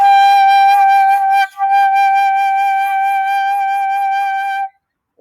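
A flute plays a single sustained G, clear and steady, briefly broken by a short breath before continuing, then stopping into silence.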